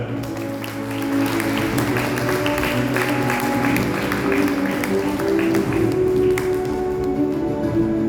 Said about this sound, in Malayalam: ഓരോ കയ്യടി പോലെ